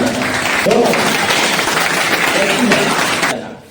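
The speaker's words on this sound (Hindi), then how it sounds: "बहुत सारा ताली" Applause for children at a school awareness event on child labour and child marriage fills the room, a dense burst of many hands clapping together that carries on under a speaking voice before cutting off abruptly at the end.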